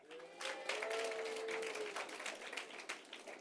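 Steady crowd clapping fills a school end-of-year assembly hall, swelling briefly and then holding a broad, even roar of many hands before easing slightly toward the end.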